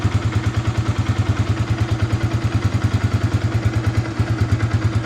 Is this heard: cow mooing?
no